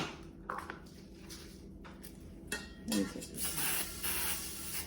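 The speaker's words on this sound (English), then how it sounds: "I spray the pan" Short hissing bursts of aerosol cooking spray onto a cake pan, several quick spritzes close by, with a few clattery kitchen noises between them.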